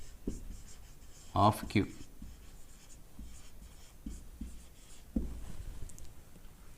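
Writing math by hand during a 10th class real numbers lesson: faint scratchy strokes of a pen or marker, brief and scattered, under a teacher's speech.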